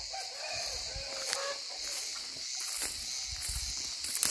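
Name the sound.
roosters and chickens in a coop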